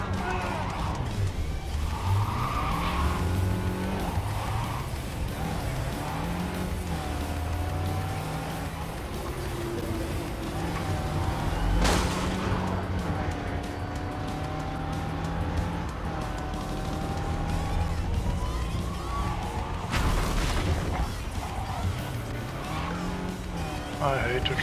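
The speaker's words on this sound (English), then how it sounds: "I hate to drive in this game." A car engine in Cyberpunk 2077 revving steadily as the car drives, with tire squeals and skids rising and falling and a couple of sharp impacts, while a person talks over it.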